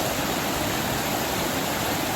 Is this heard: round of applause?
no